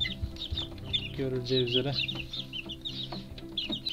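Young chicks being hand-fed give repeated high, rapid chirps, with someone briefly speaking in Turkish over them.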